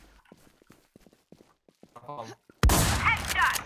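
Video game gunfire arrives as a sudden loud burst of rapid shots, erupting after a stretch of quiet speech and continuing to the end.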